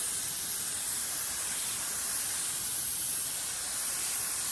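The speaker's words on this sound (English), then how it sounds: "We use 10 to 15 pounds of air pressure. Most HVOP guns, that's what you take." An HVLP spray gun lays clear coat onto a car body with a steady, close, airy hiss that stays even and unbroken throughout, with no voices.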